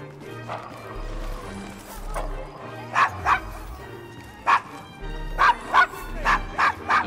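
In Assassin's Creed Syndicate, a dog barks in short sharp bursts, single and paired, moderately close, over ambient street sounds with low horse clip-clop and occasional voices.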